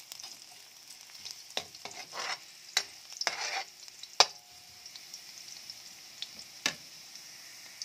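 Garlic fries in a pan with a soft, continuous sizzle broken by sharp scraping strokes of a spatula stirring at irregular intervals, close and fairly quiet.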